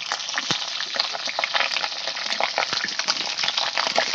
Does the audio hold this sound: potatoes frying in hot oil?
yes